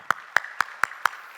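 Five sharp, evenly spaced claps ring out one after another in a church during a Sunday worship service, crisp and fairly close with quiet between each.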